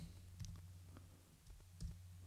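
A handful of faint, sparse clicks from a computer keyboard being typed on, spaced irregularly over a quiet background hum.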